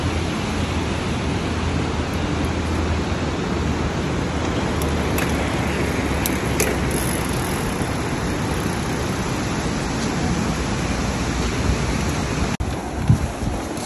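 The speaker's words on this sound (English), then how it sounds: "waterfall di mana-mana." A waterfall in Switzerland's Lauterbrunnen Valley gives off a constant broadband rushing roar, steady and fairly loud throughout, with a few faint clicks and a brief thump near the end.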